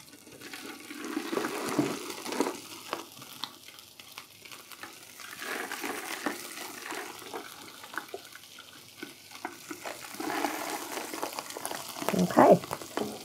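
Sea bass frying in a pan, a steady close hiss and sizzle with soft crackling throughout and a few brief clatters near the end, no talking.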